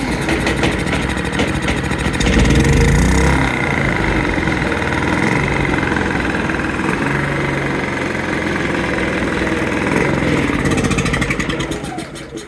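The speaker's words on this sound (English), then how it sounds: "Let's see if this thing's gonna fire up." A Predator 3500 portable generator recovered from the trash and under repair runs steadily after starting, its small engine chugging loudly and close with a rough, vibrating drone that holds throughout.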